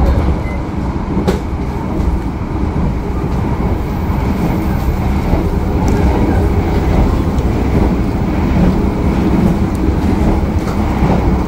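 Steady rumble and rhythmic rail clatter fill the cabin of a moving Argo passenger train, loud and continuous throughout.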